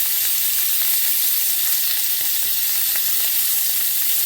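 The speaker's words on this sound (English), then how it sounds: "I'm going to put it the side that I want to present down first because I want to get a nice hard sear on that side" Venison steak searing presentation side down in a hot pan, giving a loud, steady, continuous sizzle with no talking, the hiss even and unbroken from start to finish.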